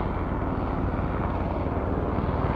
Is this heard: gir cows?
no